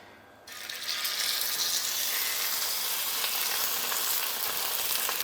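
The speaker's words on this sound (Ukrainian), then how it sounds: "зараз будемо його відправляти в нашу сковорідочку" Steak drops into a hot frying pan and immediately starts sizzling loudly, a steady, crackling hiss that keeps going without pause.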